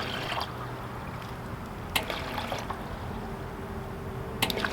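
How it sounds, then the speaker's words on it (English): Water leaks from a valve on a camper van's water system, a faint continuous trickle with a few sharp drip clicks. "In the out position of the valve, it leaks out, which I guess kind of makes sense."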